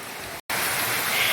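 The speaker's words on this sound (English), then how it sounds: "And there, my friends, is the big waterfall." Rushing water at the big waterfall on Taylor's Creek in Kolob, Zion, a loud, steady broadband roar close by, cut by a brief dropout partway through.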